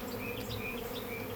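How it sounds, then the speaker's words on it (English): Honeybees fill a crowded hive box with a dense, steady buzzing drone, close and continuous, with individual bees whining past above the hum. "The bees in this box, I don't know. There's so many of them."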